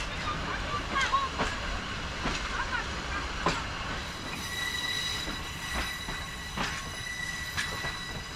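A British-built Class 66 locomotive running through Poland along a busy road, with a steady rail rumble, repeated wheel clicks and high metallic squeals from the wheels.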